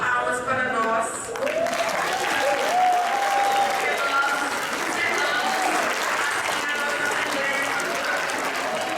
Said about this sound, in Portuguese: vamos bater bastante palmas para nós